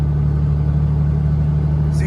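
A 6.7 Cummins diesel pickup truck driven hard on a back road, its engine a loud, steady low drone heard from inside the cab.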